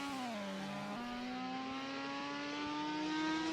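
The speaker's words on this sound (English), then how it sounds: "Hear that RX-7 on the brakes," A Mazda RX-7 race car engine whines, dropping in pitch as it brakes, downshifting once, then climbing steadily again as it accelerates, steady and close throughout, in a sim racing game at Townsville.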